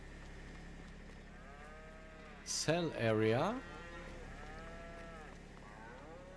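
Cattle mooing on a farm in Farming Simulator 22, several drawn-out moos rising and falling over steady game ambience, one louder call in the middle with a brief burst of speech.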